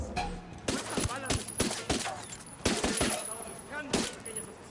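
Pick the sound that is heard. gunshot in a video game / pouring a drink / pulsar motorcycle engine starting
gunshot in a video game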